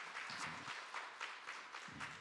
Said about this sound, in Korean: 뜨거운 격려의 박수 부탁드리겠습니다